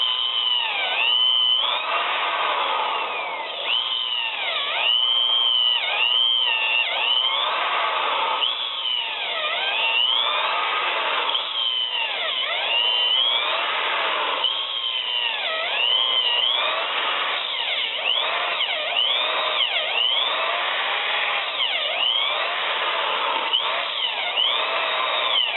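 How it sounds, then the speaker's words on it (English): A power drill whines continuously for the whole stretch, its pitch rising and dipping repeatedly as it bores holes into a wooden tree stump, loud and close with no talking. "this is the first stump I've drilled a bunch of holes in"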